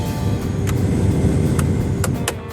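Steady blower fan whir from a 2004 Jeep Wrangler TJ running on low speed, a continuous close hum with a few faint clicks and no talk.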